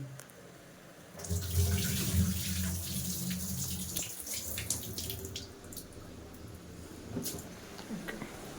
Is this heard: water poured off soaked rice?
yes